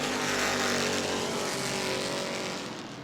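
Race cars at a New Smyrna weekly oval-track racing event roar past in a loud, continuous engine drone that slowly fades toward the end, with no talk over it.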